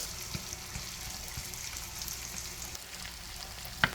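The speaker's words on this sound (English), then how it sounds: "I'm gonna leave this to saute for about a minute" String beans sautéing in a pan with garlic, a steady low sizzle and faint frying crackle running throughout, with soft stirring clicks and one sharp utensil clink near the end.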